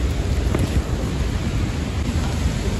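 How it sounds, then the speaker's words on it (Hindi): Heavy rain in a violent storm during a disaster in Kullu-Manali, a dense, roaring wash of rainfall with low rumbling, loud and continuous close by, without talk. "और यहाँ पे बारिश लगी है"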